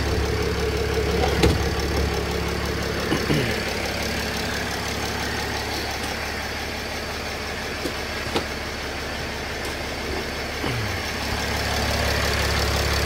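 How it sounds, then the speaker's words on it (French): A Mercedes OM 642 diesel engine idles steadily with a low, constant rumble and clatter, occasional faint clicks and knocks over the even drone, no talking. "Moi, je vais laisser le moteur travailler"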